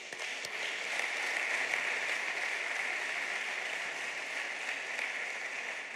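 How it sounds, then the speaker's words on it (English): Audience applause for a conference panel in a ceremonial hall, a steady, even wash of many hands clapping at moderate distance, sustained throughout without voices. "Please, can you give them a round of applause?"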